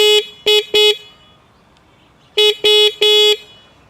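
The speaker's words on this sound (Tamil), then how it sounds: "இப்போது ஹாரன்," Six short horn beeps from a homemade 48V 1000W electric bike, loud and close, in two groups of three, with a steady tonal buzz and brief silence between groups.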